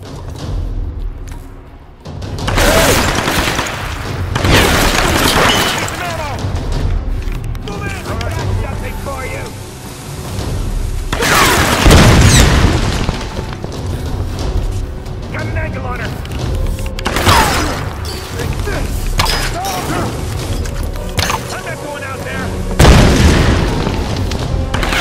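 Gunfire and explosions in Tomb Raider Definitive Edition, with repeated heavy booms and bursts of shots over a dense, loud combat backdrop, while characters shout over the chaos.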